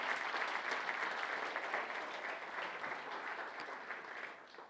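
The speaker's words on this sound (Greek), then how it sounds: "Ένα χειροκρότημα σε όλους εσάς." An audience claps in sustained, dense applause that carries on evenly and fades slightly toward the end, with no talk over it.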